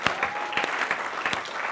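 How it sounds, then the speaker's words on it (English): A church congregation claps during a Sunday revival service, a short burst of scattered, uneven hand claps at moderate loudness with no talking over it. "I feel like we could all clap to that."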